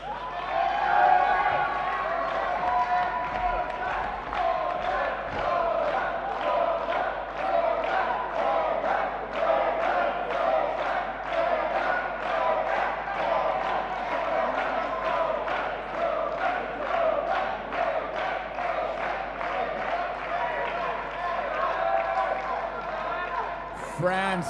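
Spectators at a chessboxing world championship bout cheering and clapping for the French fighter, a steady crowd roar with rhythmic rapid clapping running throughout, heard from within the arena at moderate level.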